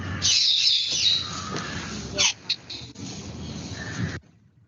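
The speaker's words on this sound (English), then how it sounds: "So this is the female koel." Female and male koels calling in trees, a bright high repeated call with a few sharp chirps over faint background noise and no talk.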